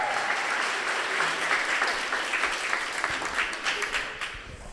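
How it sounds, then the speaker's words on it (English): Sustained applause from a wedding ceremony crowd, steady clapping filling the room for several seconds with a few scattered louder claps near the end. "Big round of applause."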